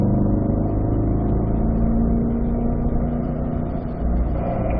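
A car engine pulls steadily on a race track as the driver rolls on the throttle, a loud, sustained drone with a smooth, slowly shifting tone.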